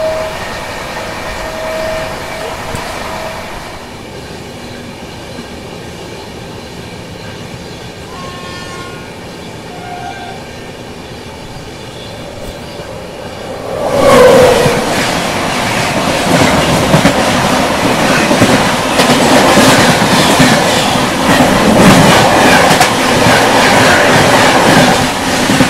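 A Rajdhani Express train runs slowly on the rails, a quiet hum of wheels giving way midway to a loud, sustained roar of rolling stock and clickety-clack close by.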